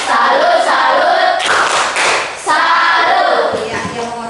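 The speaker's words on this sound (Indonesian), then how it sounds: "tepuk salut buat Divi" A class of students claps and chants a rhythmic 'tepuk salut' salute clap in a classroom, voices and hand claps mixed together in steady repeated bursts, loud and close.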